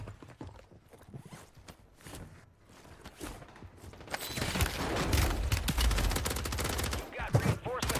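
Gunfire in a Call of Duty Warzone match: a dense run of rapid shots sounds loud and close, rising out of quieter game noise partway through and mixing with other game effects.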